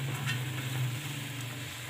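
Cauliflower for dhaba-style aloo gobi cooks in a pan with a soft, steady sizzle and a low hum beneath, close and even throughout with no talk.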